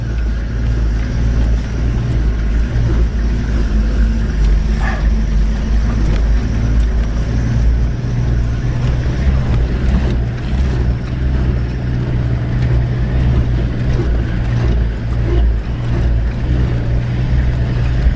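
A vehicle drives over rough terrain on the Makgadikgadi pans, its engine a low, constant rumble with rattling and bumping throughout, loud and close from inside the cab, with no speech.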